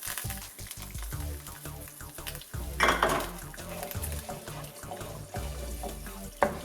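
Eggs being scrambled in a pan for Kerala-style egg fried rice, with steady scraping and clattering of a utensil against the pan in a rhythmic stirring pattern, a brief louder splash partway through, and kitchen clinks throughout.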